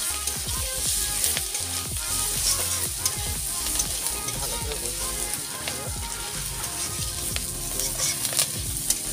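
Garlic paste sizzles and fries steadily in a hot pan, a dense continuous crackle with occasional stirring scrapes, close and loud throughout.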